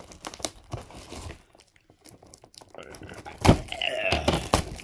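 A parcel is opened with scissors: crinkling packaging, snips and tearing scrape close to the microphone, with a short quiet gap and a louder rip near the end, under occasional talking.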